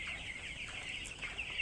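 Chickens cluck in a poultry flock of several hundred birds, a faint, steady background of clucking from nearby hens with no talk over it.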